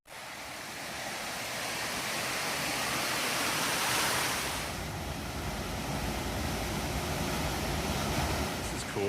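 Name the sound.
waterfall cascades on stream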